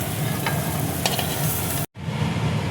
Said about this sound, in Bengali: এঁচোড়টা দেখো ভাজা হয়ে গেছে।